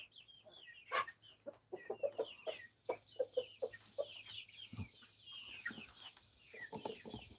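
A barred rock hen clucks inside a chicken coop, a run of short, fairly close clucks in a quick uneven rhythm, fading out toward the end amid other faint bird sounds.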